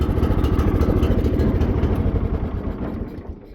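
A small engine on a homemade go-kart runs with a steady, rapid low throb, close and loud, then gradually fades and winds down toward the end.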